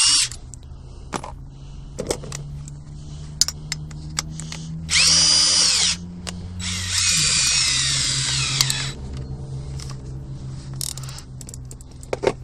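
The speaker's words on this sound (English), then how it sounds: "I'm going to attempt to not have to cut the floor and just drill right through that too." A DeWalt 20-volt lithium-ion cordless drill with a keyless chuck bores through a vehicle floor, two loud sustained bursts of whirring separated by a short pause, with scattered clicks and knocks around them.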